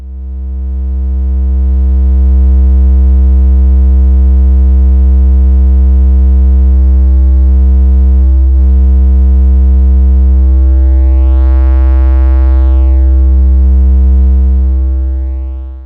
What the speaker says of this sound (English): Popping up the input level leads to nice distortion effects with adjustments higher than 5.